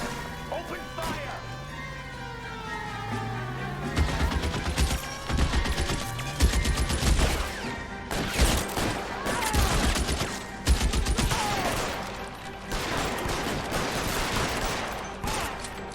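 Close gunfire shootout in L.A. Noire, with bursts of rapid shots and sharp cracks hammering over a tense background score, while voices talk between volleys.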